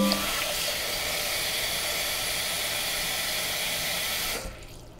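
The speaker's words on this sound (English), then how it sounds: "put this in the pot and we're just gonna cover with water" Tap water pours steadily into a cooking pot to cover rinsed short ribs, a loud continuous rushing stream that cuts off abruptly just before the end.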